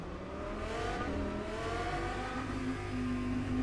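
An Audi GT3 race car engine in the racing game rFactor 2, a steady droning whine with a slowly rising pitch, continuous and moderately loud throughout.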